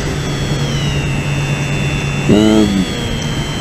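Electric motor of a Bixler RC foam plane flying low over a field, a steady high whine that holds loud and continuous, briefly rising in pitch near the end, with a low hum underneath.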